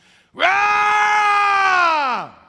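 A voice imitates the terrified scream of a possessed man: one loud, sustained, close wail lasting about two seconds that tails off with a falling pitch.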